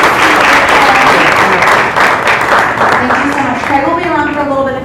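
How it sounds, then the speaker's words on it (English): Loud, sustained applause from a conference audience fills the room, dense clapping holding steady throughout before easing slightly toward the end, with a voice or two briefly rising above it. "Let's give a big round of applause."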